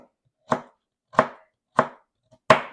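A knife cuts a raw carrot into rounds on a cutting board: four crisp, separate chops spaced about two-thirds of a second apart, close and clear against silence.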